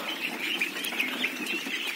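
Faint, high chirping peeps from a group of month-old ducklings, repeated steadily in a soft, continuous chorus with light background noise.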